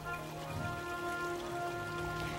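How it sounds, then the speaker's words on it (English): Torrential rain pours down in a steady, dense hiss, constant and even throughout, with no voices. "Shifting weather patterns brought torrential rains to the area"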